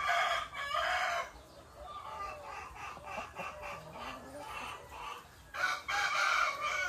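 Layer chickens cluck and crow in a hot poultry building, a dense chorus of overlapping calls with a rooster's crow standing out, steady and moderately near throughout.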